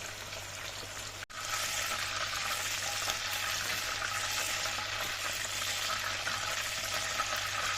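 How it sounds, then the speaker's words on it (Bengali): Slit green chilies frying in oil, a steady moderate sizzle that continues after a brief sharp click near the start, with no voices. "এই তেলের মধ্যে এবার চিড়ে রাখা কাঁচা লঙ্কাগুলো দিয়ে দিলাম।"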